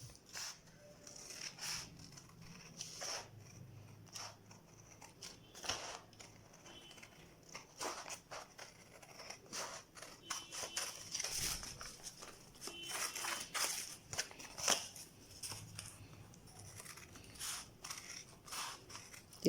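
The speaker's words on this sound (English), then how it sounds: "So I'm just going to try to cut this out and see what it looks like." Scissors cutting out a paper sandal pattern for bunion feet: quiet, close snips and paper rustles repeating irregularly throughout, with no voices.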